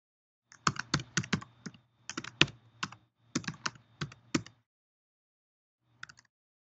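Keys on a computer keyboard are tapped in quick bursts of clicks with short pauses, ending with a few isolated presses after a gap, close and clear with no talking.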